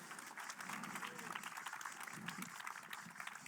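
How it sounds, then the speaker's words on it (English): Crowd applause at a festival panel talk, a continuous dense patter of clapping held at a faint, even level throughout. "Another round of applause, please."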